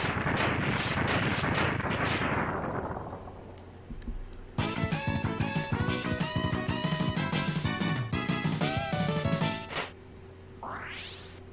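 Rapid arm-cannon Buster shots in the video game Mega Man X2, a dense run of sharp electronic blasts firing in quick succession after a fading rumble, ending with a rising synthetic tone.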